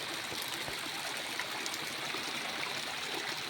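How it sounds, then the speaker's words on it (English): Water flows steadily in a small stream, a continuous soft rushing and trickling with no break or voices. "This is the stream, pure water."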